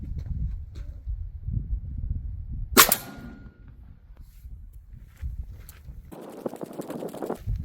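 A single sharp, loud blast from an Umarex Primal 20 air-powered shotgun loaded with shot, close by and ringing briefly, set among quieter outdoor shuffling and handling noises.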